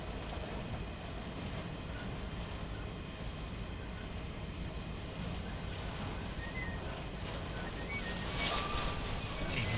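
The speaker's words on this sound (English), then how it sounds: "Here's some gusts." Storm wind gusts roar steadily outdoors in Texas, broadband rushing and buffeting that swells slightly near the end, with faint background noise throughout.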